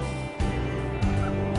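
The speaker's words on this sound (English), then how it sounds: "She's one of our bantam chickens." Bantam chickens clucking close by, a few short throaty fowl calls in quick succession at moderate volume over a quiet background.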